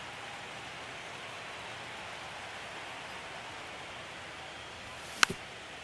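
Steady rain hiss in the MLB The Show 25 baseball video game, an even broadband wash with a brief sharp click near the end.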